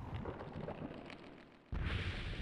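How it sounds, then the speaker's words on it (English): Thunder from a storm rolls as a deep, heavy rumble, then a sudden louder crack-like burst jumps in and sustains, a powerful broadband roar with no speech over it. "Did you guys hear that thunder?"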